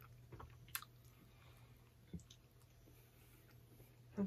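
Someone chewing a soft, fluffy iced gingerbread cookie from a Polish snack box, with quiet close-up mouth sounds and a few faint sharp clicks over a low steady room hum.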